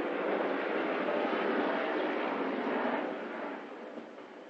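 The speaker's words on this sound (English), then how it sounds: "that was a helicopter flying past us" A helicopter passes overhead as a broad, steady roar that slowly fades away, heard from indoors with no talking.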